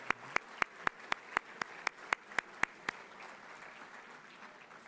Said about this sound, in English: Please join me in giving them an applause.